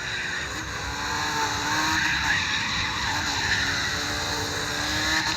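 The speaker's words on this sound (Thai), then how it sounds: "เตรียมใจให้ดีกับการเสียง เครื่องยนต์อันดัง" A Mazda MX-5 racing engine in the CarX video game roars steadily while tires squeal in a long, continuous skid, loud and sustained throughout without any talking.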